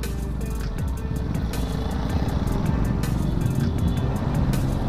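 Road traffic jam heard while riding a Honda Beat motorcycle fitted with a standard racing exhaust, a steady dense engine and traffic rumble running continuously and fairly loud throughout, with no clear voices.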